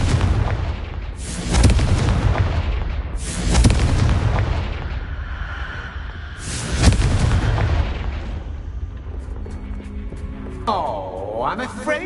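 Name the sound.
Confringo spell explosion in Harry Potter video game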